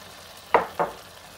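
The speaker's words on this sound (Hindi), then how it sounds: "और इसको बहुत नरम हाथों से मिक्स करेंगे, बहुत ज़ोर से चमचा नहीं चलाएंगे।" Fried potatoes are stirred into spice masala in a pan, giving two quick, soft scraping strokes a moment apart over a faint background of sizzle.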